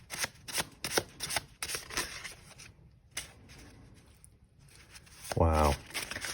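Oracle cards being shuffled close up in quick riffling bursts, with a pause midway, followed by a short voiced exclamation near the end.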